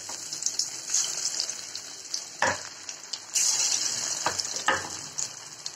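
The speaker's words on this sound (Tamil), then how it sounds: "இதுல நான் சிக்கன் பொரிச்சு எடுத்துக்க" Chicken pieces fry in hot oil for a chicken veg fried rice, giving a steady close sizzle with a few louder crackling bursts as the pieces are stirred, and no talking.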